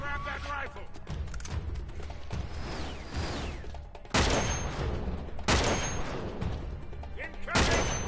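Rifle gunfire from the action game Uncharted: Drake's Deception, with sustained rattling fusillades under a busy battle soundscape, punctuated by a few loud, close blasts that cut in sharply, plus mechanical clanks in the background.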